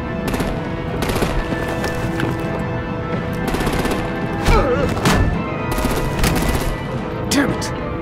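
Rapid game gunfire and artillery bursts in the Batman: The Enemy Within video game, a dense, loud fusillade with sharp impacts throughout, mixed with scattered voices and battle noise.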